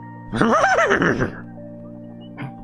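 A man imitates a horse with his voice, giving one loud, wavering whinny-like neigh of about a second over a steady hum, then a short faint vocal sound.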